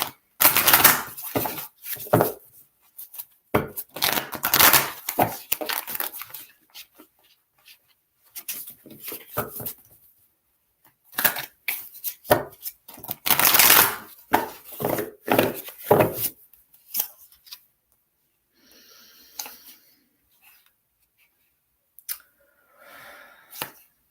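A deck of tarot cards is shuffled thoroughly by hand in a quiet room, giving repeated bursts of riffling and flicking card clatter with short pauses between them, close and fairly loud, with no voice.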